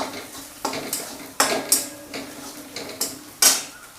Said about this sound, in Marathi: हळद टाकल्यानंतर हे हलवून घ्यायचं